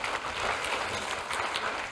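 Congregation applauding during a church service, a steady wash of many hands clapping at moderate volume with no speech, filling the whole stretch.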